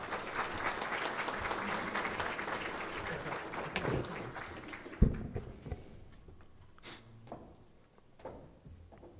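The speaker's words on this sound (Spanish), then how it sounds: "Muchas gracias por los aplausos." Audience applause at a public accountability hearing, dense clapping that fades toward the end with a few scattered claps and thumps as it dies away, no talk over it.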